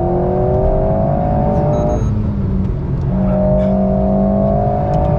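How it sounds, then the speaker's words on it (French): A car engine revs hard as the driver accelerates out of a corner, loud and close, with rising tones that break off briefly at a gear change before climbing again under steady road and wind roar. "je débraque et je reprends les gaz"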